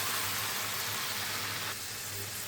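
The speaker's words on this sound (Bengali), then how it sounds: "মশলার সঙ্গে মাংসটাকে ভালোভাবে মিশিয়ে ভালোভাবে কষিয়ে নিতে হবে" Chicken pieces fry in spice paste in a pan, giving a steady, moderate sizzle that runs without a break, with no voices.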